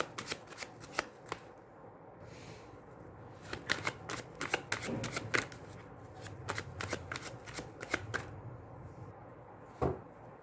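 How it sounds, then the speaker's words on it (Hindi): Tarot cards are shuffled by hand, giving repeated soft riffling flutters and sharp slaps in irregular bursts, quiet and close, with no talking. "चलिए हम थोड़ा सा शफल कर लेते हैं कार्ड्स को"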